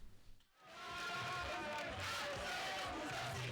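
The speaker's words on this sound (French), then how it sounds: "Une foule enthousiaste, des cris d'encouragement et une chef déterminée." A cheering crowd at the official launch of a cooking challenge in Benin, rallying behind a determined chef. Broad, sustained shouting and cheers swell up after a brief lull and hold at a roar.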